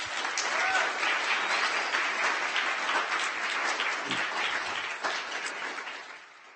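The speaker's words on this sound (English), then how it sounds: "Let's give Luke Robluski, Carl, and Wendy one more round of applause." Audience applause after a tech talk on mobile engineering and design, a dense, steady wash of clapping from a sizable crowd that holds strong for most of its length before tapering off at the end.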